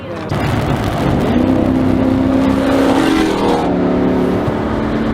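A 5.7 Hemi truck fitted with shorty headers revs hard and holds a loud, throaty exhaust roar up close, with the pitch climbing and then settling, while people talk underneath.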